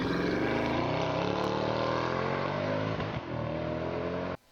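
A sleeper car's engine revving hard, a loud close roar with rising and falling tones that dips briefly near the end.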